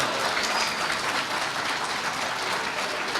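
An audience at a live comedy show in Ruvo di Puglia applauds in a steady, dense wash of many hands clapping, even and sustained without pause.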